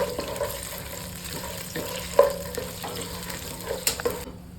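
Chilies frying in hot oil in a pan, a constant close sizzle with occasional sharper stirring scrapes, cutting off abruptly at the end, no voices.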